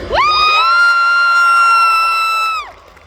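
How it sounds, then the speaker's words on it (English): A loud, sustained crowd scream at an anime convention panel rises sharply, holds at a high pitch for over two seconds, then cuts off abruptly. "I need louder screams."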